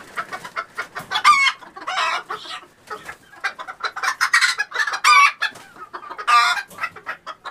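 A backyard flock of game chickens and larger chickens clucks and squawks steadily up close, busy overlapping calls filling the whole stretch with no voices.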